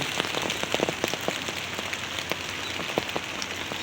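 Heavy rain driven by wind beats steadily on rocks, a dense hiss dotted with sharp close drops, loud and continuous with no voices.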